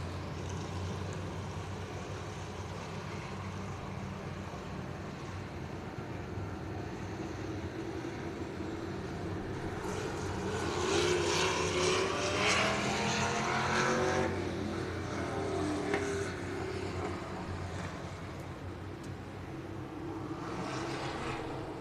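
Outlaw Street Stock race cars at Heart O' Texas Speedway roll toward a restart, engines droning at a distance, then swelling into a louder roar midway before easing back to a rumble.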